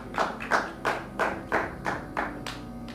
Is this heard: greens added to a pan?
no